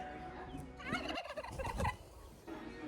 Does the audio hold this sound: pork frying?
no